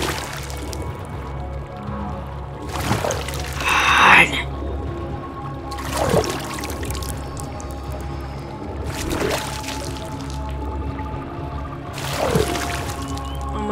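A slow-drinking Giga dinosaur in the survival game The Isle drinks water in repeated wet lapping gulps about every three seconds, heard under a voice with ambient game background.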